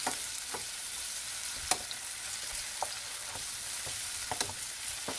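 Tomatoes hit a frying mixture in a pan under a steady gentle sizzle, with soft scattered clicks and scrapes as the mixture is stirred.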